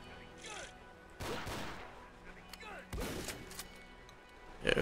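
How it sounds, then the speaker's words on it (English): Slug rounds from a shotgun in the GZDoom mod Ashes 2063 boom in several sharp, heavy blasts, each with a trailing echo, spaced through the clip over background game ambience, with a louder burst at the end. "you're shooting them slugs at them"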